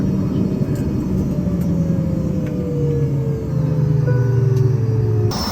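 A small passenger airplane lands at a small US village airport, its engine a loud, steady droning rumble close by, the pitch sliding gradually downward as it rolls out, with no talking.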